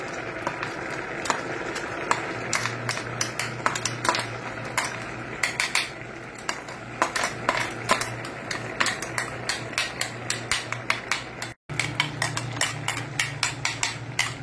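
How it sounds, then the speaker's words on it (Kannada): A spoon stirs green peas sukka in a Mangalore-style pan, making steady rhythmic scraping and clinking strikes close up, with a low cooking hum beneath and a brief gap near the end. "ಇನ್ನೀಗ ಇದನ್ನು ಚೆನ್ನಾಗಿ ತಿರುಗಿಸ್ಕೊಳ್ಳೋಣ."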